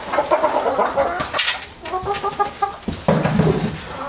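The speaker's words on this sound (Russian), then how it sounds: "Как вы видите, птица очень довольна, с удовольствием кушает пивную дробину." Several chickens cluck and chatter close by while feeding on brewer's spent grain from homebrewed beer, their calls overlapping in a busy, steady stream.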